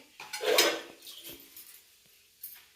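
Pots, pans and cutlery clatter and scrape as utensils are washed and scrubbed, with a louder burst of clinking early on, then lighter knocks and a final clank, close by with no talking.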